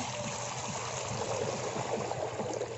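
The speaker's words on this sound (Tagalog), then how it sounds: "Maglagay tayo ng tubig." Water is poured into a cooking pot while making Maguindanaon chicken pastil, a steady splashing, trickling flow heard close and moderately loud with no talk over it.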